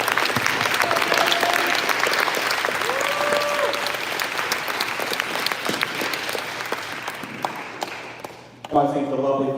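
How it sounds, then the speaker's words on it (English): Audience at an education summit at a community college applauding, a thick sustained round of clapping that gradually thins and fades, with a brief burst of a voice starting at the very end. "So let's give them a round of applause as well."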